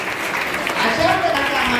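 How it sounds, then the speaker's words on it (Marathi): An audience applauds during a prize-giving at a school science exhibition, a brief, steady wash of clapping that fills the room with no pauses. "पहिल्यांदा आपण टाळ्या वाजवूया."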